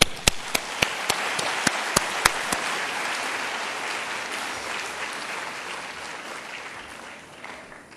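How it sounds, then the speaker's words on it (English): A graduation ceremony audience breaks into loud, sustained applause filling a large hall, a few sharp claps standing out at the start before the clapping gradually thins toward the end. "Please give them a round of applause."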